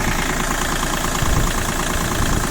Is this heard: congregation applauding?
no